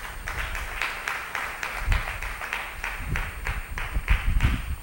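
Applause from a congregation at a religious service, with steady clapping sustained throughout, moderately loud and even, some low thumps beneath and no clear speech on top.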